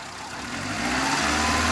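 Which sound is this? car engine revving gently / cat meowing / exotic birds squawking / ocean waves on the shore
car engine revving gently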